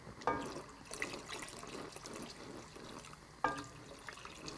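Broth poured into a pot for a creamy shrimp chupe chowder, a faint, close liquid splashing and trickling that comes in two short pours.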